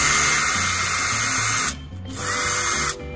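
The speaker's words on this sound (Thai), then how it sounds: "ใครอยากได้สว่านกระแทกนะครับจะบอกว่า2ตัวนี้คนลดเยอะมากครับตัวนี้นะครับแบต18โวลต์ครับ" An 18V cordless impact drill with a 1.5Ah battery whirs loudly and steadily, cutting out briefly twice in short gaps before spinning up again, with no talk over it.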